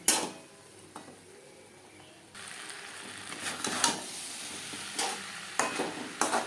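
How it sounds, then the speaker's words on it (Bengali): Drumstick stems cooking in a pan over a medium-low flame, stirred with a utensil: soft scraping and clinking strokes over a quiet, steady sizzle, with several sharper scrapes near the end. "তিন চার মিনিট নাড়াচাড়া করে নেওয়ার পর দিয়ে দেব জল"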